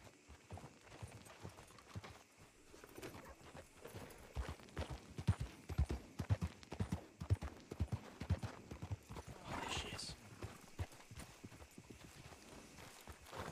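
Video-game horse hooves clip-clop steadily for the whole stretch, close and fairly loud, with a brief whinny near the middle and no talk over it.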